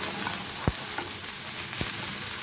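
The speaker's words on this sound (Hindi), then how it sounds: "इसके बाद हम ये गार्लिक 5 ग्राम्स और ये 5 ग्राम जिंजर को हम 1 मिनट के लिए हाई फ्लेम में थोड़ा पकाएंगे।" Garlic and ginger fry in hot oil over a high flame with a busy, continuous sizzle and a couple of sharp spatula knocks against the pan.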